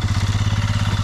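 A motorcycle engine runs close by on a ride to a Sahyadri waterfall, giving a loud, steady, rapid thudding beat like an idle or slow cruise.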